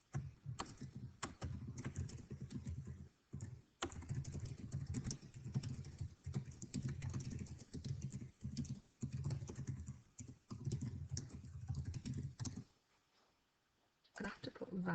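Typing on a computer keyboard, steady close clatter of keystrokes in bursts with short pauses, a brief quiet gap near the end before keys resume, with faint speech in places.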